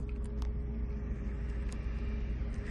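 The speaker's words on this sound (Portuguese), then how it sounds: "a gente tá no carro, a gente vai andar um pouquinho devagar para ver como que tá" A Ford Fiesta driving slowly on a test drive, heard from inside as a steady low engine and road rumble with a faint hum, no talking.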